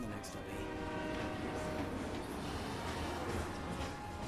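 Train in the Final Fantasy 7 Remake video game, a steady loud rumble of rolling rail cars with a sustained horn-like tone throughout, with no clear talk.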